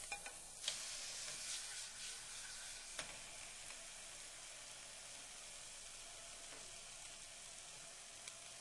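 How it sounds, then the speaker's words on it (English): Tilapia fillets sizzle steadily in butter on a skillet, a soft continuous frying hiss with faint crackles and occasional small pops, no voices. "place the tilapia on the skillet after you get some butter spread evenly among the surface"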